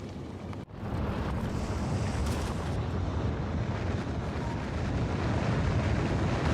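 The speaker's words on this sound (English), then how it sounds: "Look at them rockets go." Rockets launching in the game Factorio give a sudden roar that jumps up after a brief dip and holds as a loud, broadband rushing rumble through to the end, with no talk.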